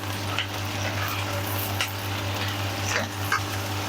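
Spices with garlic-ginger paste fry in a pan for a gobi gosht curry, a soft steady sizzle with occasional scraping stirs, under a constant low electrical hum.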